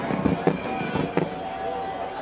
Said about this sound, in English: we've had fireworks on the track and now in the sky